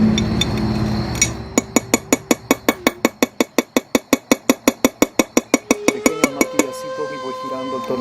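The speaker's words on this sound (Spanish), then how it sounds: "voy girando el tornillo para golpear en distintas direcciones" Rapid, evenly spaced metallic strikes of a hammer on a screw-driven tool used in making bonsai pots, around two dozen sharp ringing blows close up, slowing and fading at the end.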